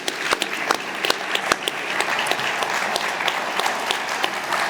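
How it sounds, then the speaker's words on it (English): An audience at a Father's Day event with the Milwaukee Bucks general manager applauds fathers in dense, sustained clapping with a few sharper claps standing out, filling the room at a steady level. "can we just give a huge round of applause to all the dads"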